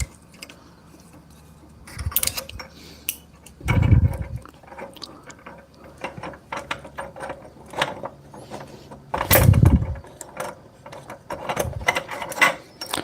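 Torsion springs on a cheiroballistra are loosened with locking pliers, producing close ratcheting clicks and creaks of the mechanism, with two heavier clunks standing out.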